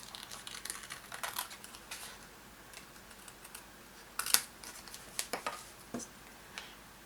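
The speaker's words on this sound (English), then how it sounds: "I'm going to fussy cut this out" Scissors fussy cutting around a stamped paper card piece for a handmade card, a series of small close snips and paper rustles in irregular bursts, soft overall with a few sharper cuts near the middle.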